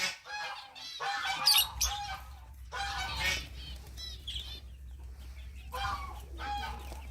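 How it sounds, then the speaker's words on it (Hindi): Parrots and lovebirds in a farmhouse setting give loud, raspy calls and squawks in bursts, with a faint wing flutter and people talking nearby. "ये चिड़िया कितनी प्यारी है, पैरट्स है ना ये तो?"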